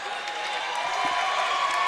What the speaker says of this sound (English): A very appropriate round of applause